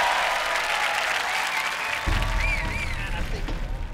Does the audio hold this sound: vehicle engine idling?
no